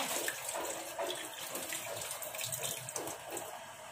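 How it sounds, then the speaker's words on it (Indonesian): Spinach and carrots rinsed under a running tap, a steady broadband splash and gush of water with small fluctuations as the vegetables are handled, close and continuous with no talking. "pertama kita cuci bersih dalamnya, lalu tiriskan"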